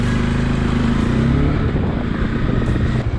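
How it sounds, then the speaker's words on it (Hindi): A motorbike ridden at night on an empty road toward New Delhi Railway Station, its engine a steady loud low drone with wind rush across the whole stretch and no talking. "मैंने सोचा क्यों ना बाइक लेके निकलते हैं"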